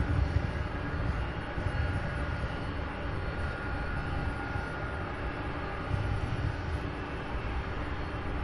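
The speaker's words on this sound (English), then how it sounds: "That one pushing back as we speak. And then this one already pushed back will be taxiing here momentarily." An MD-11 jet taxis at Louisville's SDF airport, its engines giving a steady, distant broadband rumble and whine with no talking.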